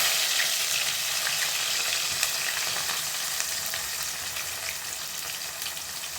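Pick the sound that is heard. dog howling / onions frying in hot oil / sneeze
onions frying in hot oil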